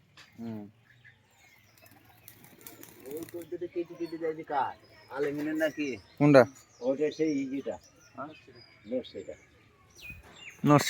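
Pet pigeons at a home loft flap their wings in short bursts and make small calls close by, mixed with frequent conversation between people.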